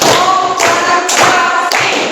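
A group claps hands together on a counted chant, with four loud, evenly spaced collective claps about half a second apart, close and sharp.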